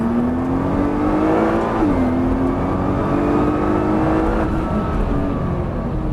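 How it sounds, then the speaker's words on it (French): A Nissan GTR accelerating on a race circuit, its engine note climbing steadily with a brief dip near two seconds as the gear shifts, a loud continuous drone with no talking. "Et on remet du gaz."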